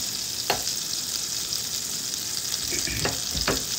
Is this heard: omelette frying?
yes